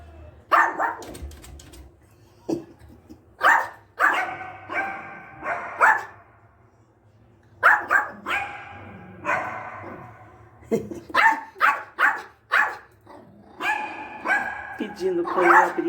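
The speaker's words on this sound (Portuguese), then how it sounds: "E o outro lá fora latindo." Several dogs bark near a door at home, one asking to be let in while another barks outside, in repeated close, loud bursts of barks and yips with brief quiet gaps, and a person talks between them.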